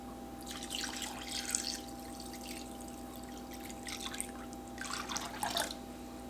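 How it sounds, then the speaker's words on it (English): Low sodium soy sauce poured into a bowl of marinade for Key West chicken, heard as a few short liquid trickles and splashes separated by quieter gaps, over a steady low hum. "Then add the low sodium soy sauce."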